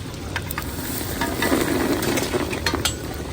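Green onions and cluster beans sizzle steadily as they are tempered in hot oil in a pan at a roadside dhaba kitchen in Morbi, with a continuous moderately loud frying hiss and occasional stirring scrapes.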